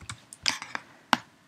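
Quick keystrokes on a computer keyboard, a handful of sharp close clicks in an uneven burst, heard alone.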